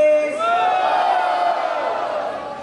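A rap battle crowd roars and whoops in sustained cheering for a rapper, loud and dense, with shouted voices blending into one continuous wall of noise that slowly fades.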